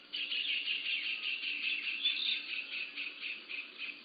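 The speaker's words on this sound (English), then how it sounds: "And you can hear the sounds of the parrots." Continuous chattering, squawky calls from a flock of parrots at Narada Kunda in Vrindavan, India, steady and moderately distant, with no pauses throughout.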